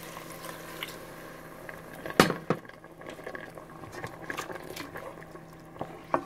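Crawfish juice diluted with water is poured into a pot of softened vegetables, a soft liquid splash and bubbling with a couple of clunks, fairly quiet.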